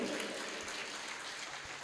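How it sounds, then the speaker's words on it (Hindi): An audience at a Hindi spiritual discourse claps continuously, a dense, even patter of many hands that carries on without a break at moderate distance. "अपने लिए ताली बजाओ"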